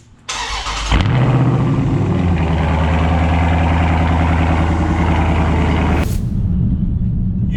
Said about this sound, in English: I had to give y'all that morning cold start